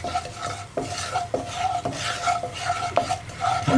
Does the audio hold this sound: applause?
no